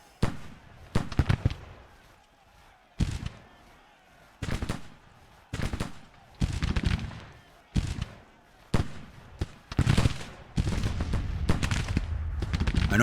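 Artillery in Grand Tactician: The Civil War firing canister shot, a series of sharp booming blasts at irregular intervals with rumbling decays between, ending in a sustained barrage of overlapping fire.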